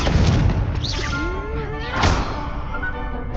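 A Confringo fire spell explodes in Hogwarts Legacy: a loud, broad burst of blast noise swells near the middle of the clip over a dense bed of other combat effects and rumble.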